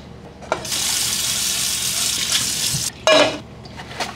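A kitchen tap runs steadily into a sink during dishwashing, giving a loud, even hiss of water for a couple of seconds, then a brief stop, a clatter and a short burst of splashing close to the microphone.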